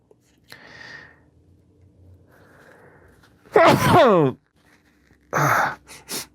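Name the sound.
sneeze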